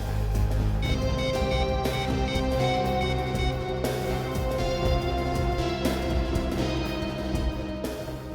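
A phone in a CID police office rings with a steady, loud electronic tone, repeated across the whole stretch over low background music, with no talk.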